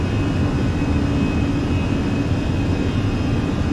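Fenix A320 jet engines in Microsoft Flight Simulator spooling up to climb power, a steady, loud broadband roar with a faint high whine holding evenly throughout, no voices.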